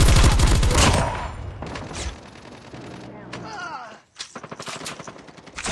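Gunfire in a shooter video game: loud rapid automatic bursts open the passage, then scattered shots and game effects follow with a short silence before more quick shot bursts, all close and punchy.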